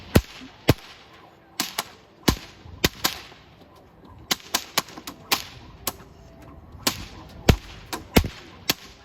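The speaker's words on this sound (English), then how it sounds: "every time that the bullwhip makes a crack" A bullwhip cracks again and again in a sideshow act at a holiday event at Six Flags Discovery Kingdom, loud sharp snaps in an irregular rapid series with no talking.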